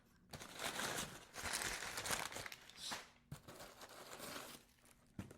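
Plastic packaging crinkles in irregular bursts as cabinet hardware screws are unpacked, close and quiet, with short pauses and a small click or two, and no speech.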